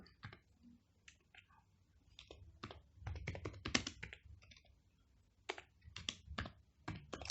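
Typing on a computer keyboard, a faint, close flurry of irregular key clicks in bursts with short pauses between them.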